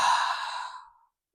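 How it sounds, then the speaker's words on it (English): A single deep exhaled breath during a dance workout, a breathy sigh that fades out after about a second, alone with no talk. "Some deep breaths to the neck."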